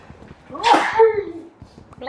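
A single sneeze bursts out once, loud and close, set among quiet chatter during a Minecraft Bedrock Edition treasure hunt session; people talk softly before and after it.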